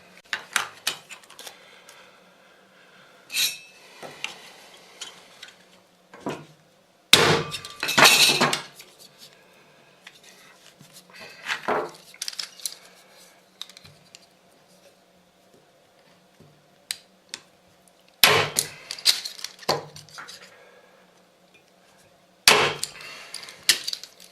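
A hammer drives a metal punch through hanging straps, giving sharp metallic strikes in scattered bursts between quieter handling clatter, close and loud, with no talking.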